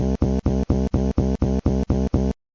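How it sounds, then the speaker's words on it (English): A tuba sounds a run of about ten short, evenly spaced low notes, each a brief sustained blast with a sharp cutoff, loud and close, played alone. "The tuba has most harmony parts in the orchestra, and it sounds like this."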